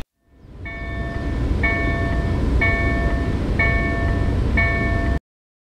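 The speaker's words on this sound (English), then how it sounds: "there's also the Sounder train that you can use for commuting purposes" A Sounder commuter train in Edmonds, Washington, as a loud, steady rumble that rises quickly and holds, with about five evenly spaced tonal horn or bell blasts over it before it cuts off abruptly.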